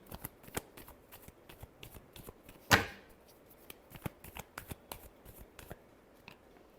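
Tarot cards are shuffled in a steady run of crisp riffling flicks, with one louder bridge-like burst partway through, close to the listener with no voices.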